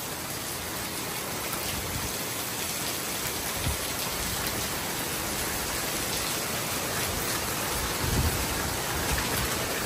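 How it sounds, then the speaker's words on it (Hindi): Steady heavy rain pours down in a village near Jakarta, Indonesia, during a thunderstorm, a dense continuous hiss filling the scene with a couple of faint low rumbles, no voices. "जिस तरह ये गरज चमक रहा है ना, गिरता भी बहुत होगा"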